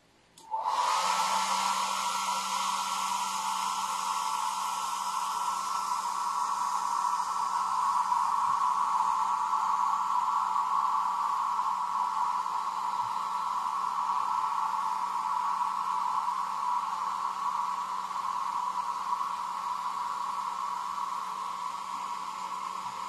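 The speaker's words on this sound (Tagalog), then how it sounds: "So, ang best friend natin dito sa mga gantong klaseng mga customs ay ito. Hair blower." A hair blower drying fresh paint on a custom-painted action figure, a steady loud whooshing drone that starts abruptly and runs continuously and alone throughout.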